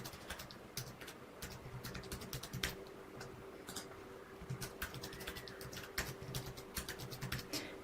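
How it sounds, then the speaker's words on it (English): Computer keyboard typing of a password, a close, continuous patter of quick key clicks with uneven rhythm over a faint steady background hum. "go ahead and type this out twice just to confirm those details"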